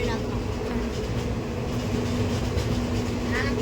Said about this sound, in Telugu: ట్రైన్లో సింహాచలం ట్రైన్ వెళ్తున్నాం